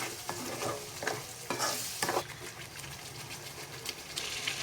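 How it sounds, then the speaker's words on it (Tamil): Ground onion, garlic and tomato masala fries in oil in a pan, giving a continuous close sizzle broken by several scraping stirs of a spoon. "அப்படியே சேர்த்து ஒரு 2 நிமிஷம் நம்ம அப்படியே எண்ணெயிலே நல்லா வணக்கி எடுத்துக்கலாம்."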